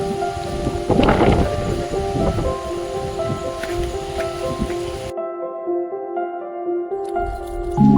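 Steady rain with a heavy burst of thunder near the start, outdoors by the Jain caves near Mahuli fort in the Sahyadri hills, then the rain continues before the sound cuts out abruptly midway.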